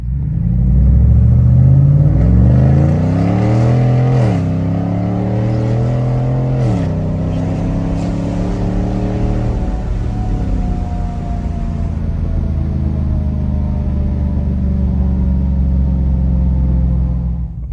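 A car is driven on a cold morning with its transmission warmed up. The engine drones loud and close, rising through the gears with clear shift drops, then settles into a steady cruising hum, and no one speaks.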